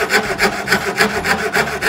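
A hand fretsaw cutting through a wooden board, close and loud, with an even rasping back-and-forth rhythm of about seven quick strokes in two seconds.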